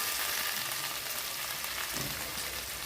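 Onions sautéing in a pan for a Telugu tomato and chana dal curry, giving a steady, close sizzle and crackle with a brief louder stir-like rustle near the end and no talking.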